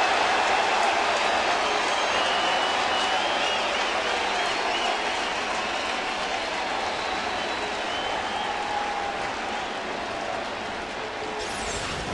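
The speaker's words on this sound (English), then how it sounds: "Listen to this crowd." A large baseball stadium crowd roars steadily for about twelve seconds during a Dodgers at Cardinals game, a dense, continuous wash of cheering and murmuring that stays loud and only eases slightly near the end.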